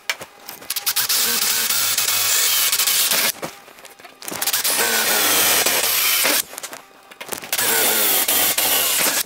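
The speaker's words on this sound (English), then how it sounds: "Get our holes drilled here." A power drill bores holes in a workpiece, whining loudly in three long sustained runs separated by short pauses.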